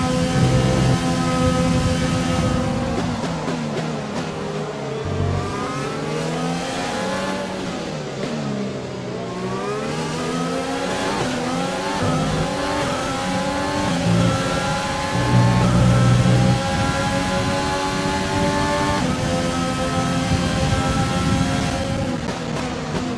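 A Formula 1 car in F1 2020, racing Norris's car at Silverstone, revs hard and loud, its engine pitch sweeping up and down through gear changes and corners in a steady, close, continuous howl.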